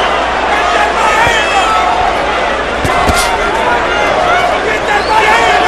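Arena crowd at the Zab Judah vs Cory Spinks boxing fight, a loud steady roar of cheering and shouting filling the whole stretch, with a few sharp thuds standing out midway.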